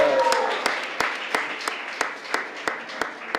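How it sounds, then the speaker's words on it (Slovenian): Scattered applause from a small crowd at a festival press conference in Ljubljana, with sharp individual claps standing out at a steady pace over a dense wash of clapping. "Bravo, Domen, en aplavz za Domna."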